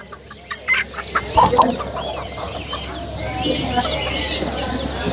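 Chickens cluck and cackle nearby in a short burst, then quieter clucks continue over a busy outdoor background at a chicken market.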